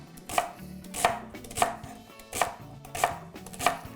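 A knife chops through celery on a cutting board with six sharp, evenly spaced strokes, close and clear, with no talking.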